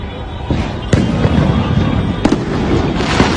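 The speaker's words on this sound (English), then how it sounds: "Fireworks." Fireworks go off during a street celebration, a dense crackling barrage with several sharper bangs standing out, loud and continuous with crowd noise mixed underneath.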